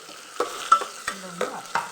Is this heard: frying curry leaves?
yes